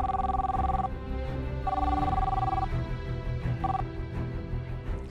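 A telephone rings during a TV serial scene: two long trilling rings, then a short one, fairly loud over a low musical background.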